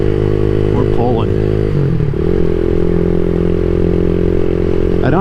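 A CSC SG250 motorcycle fitted with a MotoCult Stage 4 kit accelerates with a loud, buzzy engine note. The revs climb and shift, with a gear change partway through, all close and continuous.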